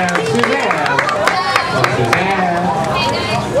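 A crowd at a cosplay contest during Nisei Week 2011 claps and cheers, a dense wash of applause mixed with loud chatter and babble, with some voices rising over the clapping throughout.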